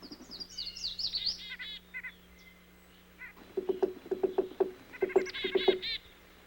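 Birds sing in the North woods, with high chirping trills near the start and then a louder run of repeated, rhythmic calls and tweets, moderately close.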